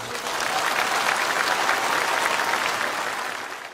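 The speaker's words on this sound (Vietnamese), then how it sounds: "Cho tràng vỗ tay thật lớn." An audience at a Buddhist dharma talk applauds, a steady, dense wash of clapping that holds at even loudness for several seconds before starting to fade.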